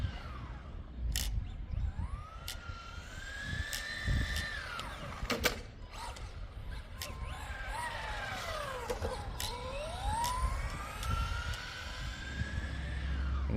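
A Tamiya TT02 radio-controlled car's electric motor runs at full throttle outdoors, its whine rising and falling in pitch several times as the car speeds up, passes and slows, heard from a moderate distance.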